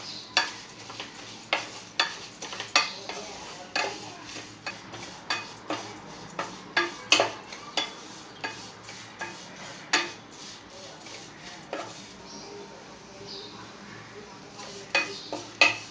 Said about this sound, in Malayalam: അവിൽ നെയ്യിലൊന്ന് ചെറു ചൂടിലൊന്ന് വഴറ്റി.